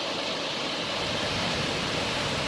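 Waterfall on Bubbs Creek in Kings Canyon pours in a dense, continuous roar, loud and close, a steady broadband rush with no breaks or other sounds.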